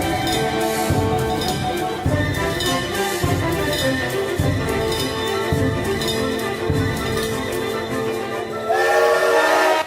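Excursion train on a rail trip near Campinas, Brazil, with rhythmic wheel clatter over rail joints repeating steadily, then a loud sustained whistle blast near the end.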